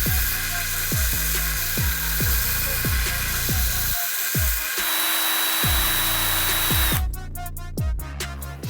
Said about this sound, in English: now we can grind off that extra sticking out.